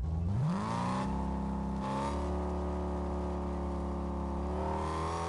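A car engine in the Fortnite video game revs up with a rising pitch, then holds a steady, loud drone that sounds damaged and rough.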